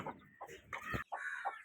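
Hens cluck in short, close bursts as a backyard chicken coop is opened in the morning, a few separate calls with brief pauses between them.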